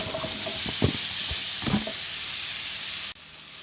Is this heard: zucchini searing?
yes